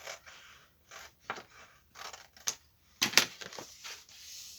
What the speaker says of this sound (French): Ma grosse paire de ciseaux est ici. Bon, je sais pas, j'ai du mal couper.